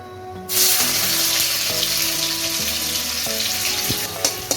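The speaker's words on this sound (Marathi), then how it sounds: "तेल गरम झाला की लगेच कांदा टाकूया" Onion hits hot oil in a pan for pasta, giving a sudden loud sizzle that holds steady and bright, with a few clinks and stirring knocks near the end.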